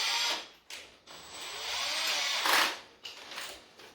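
A power drill with a 4mm bit bores through a wooden floorboard in short close-up bursts, whining up and dropping off several times over a few seconds.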